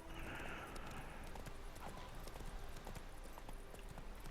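Horse hooves clip-clop steadily at a riding pace in The Witcher 3, with occasional whinnies over a continuous outdoor game ambience and faint music.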